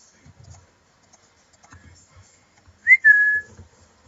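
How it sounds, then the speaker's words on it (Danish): A person whistles a short, bright rising-then-steady note of about half a second, close and clear, during a Minecraft game session, with faint clicks and murmurs around it. "Det hjælper ikke at fløjte."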